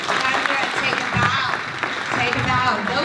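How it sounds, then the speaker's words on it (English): School audience at an elementary school program applauding student speakers, a lively wash of clapping with a few cheers and voices in the crowd, fairly close and sustained. "Please give them a round of applause."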